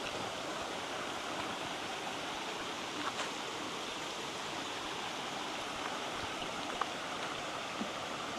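A river rushes steadily beside a campsite, a continuous broadband roar of flowing water with no pauses, close and fairly loud throughout.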